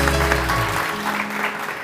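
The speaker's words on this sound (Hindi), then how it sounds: "बहुत सारी तालियां रानी आपा के लिए" Studio audience applause on a morning TV show, given for a guest named Rani Aapa: a short, fairly loud wash of clapping lasting under two seconds, over a low hum that drops away midway.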